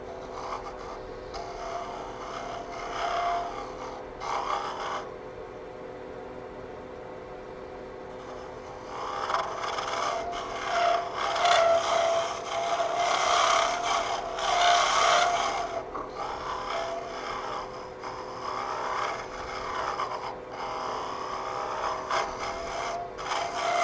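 Hollowing tool smoothing the inside of a wooden Christmas orb spinning on a lathe, a continuous scraping rub under a steady motor hum, swelling and easing in uneven passes, with a short quieter gap early on.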